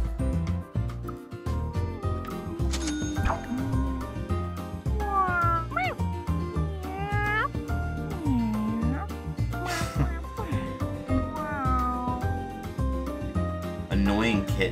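A kitten in a dark mystery video game meows repeatedly, with rising and falling cries over a steady, dense game music bed that keeps going throughout.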